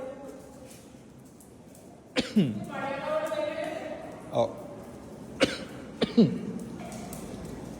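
A coughing dog in a home during a night shift of pet care. Several sharp, close coughs and hacking bursts come in quick succession, with a person speaking briefly between them.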